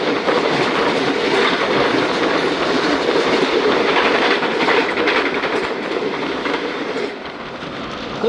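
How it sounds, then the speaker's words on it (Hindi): The Khyber Mail train passes close by with a loud, continuous roar and rhythmic clickety-clack of wheels over rail joints, easing slightly near the end, with no voices. "खैर अब ट्रेन तकरीबन पास हो चुकी हैं तमाम"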